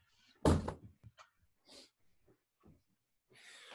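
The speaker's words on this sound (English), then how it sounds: "I got to close the door." A door in a home being shut: one sharp, fairly loud thud near the start, followed by faint rustles, breaths and small knocks in a quiet room.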